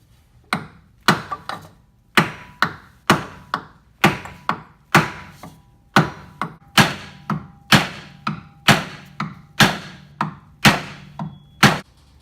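A hammer pounds a wood block against a car ball joint to knock it free, with around twenty sharp, close thwacks in a steady, driving rhythm and no talk.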